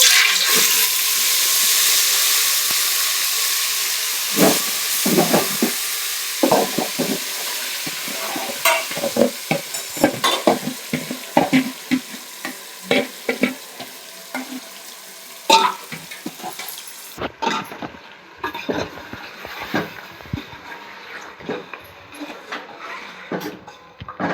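Hot oil for a village-style fish curry sputters and crackles with sharp, irregular pops over a steady sizzle; later the sizzle drops away, leaving scattered louder pops and hisses.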